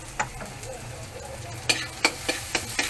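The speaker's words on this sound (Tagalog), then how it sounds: "nagiginigis ako sibuyas, bawang, saka luya" Onion, garlic and ginger sautéing with black pepper for octopus adobo, a steady close sizzle broken by several sharp scraping stirs of a utensil against the pan.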